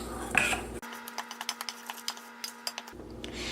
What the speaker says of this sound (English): combine the almond flour with the baking powder and the seasonings